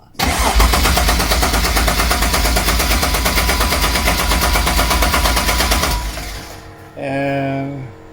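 A Toyota Supra mk3 engine cranks and fires, then runs at a loud, rough, rapidly pulsing idle for several seconds before dropping off, followed by a short higher whine near the end.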